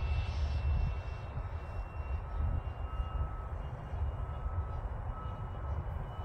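A Freewing MiG-15 64mm EDF radio-controlled jet flies past at very high speed downwind, its ducted fan making a steady, moderately distant whooshing roar with a faint high whine, continuous throughout with no talk.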